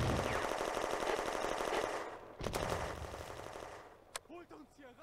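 Sustained machine gun fire on the WWII Eastern Front in the game Firefight, June 1941, loud and dense for two seconds, then a single sharp report and sparse distant shots under a shouted voice.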